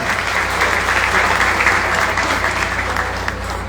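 An audience at a book presentation breaks into full, steady applause, a dense wash of clapping that stays loud and even from start to finish, with little talk over it.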